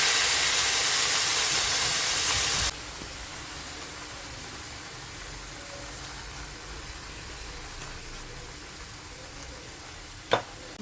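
Chicken pieces go into a pan of yogurt-based curry, giving a loud steady sizzle and hiss that drops to a quieter simmer partway through, with one sharp clink near the end.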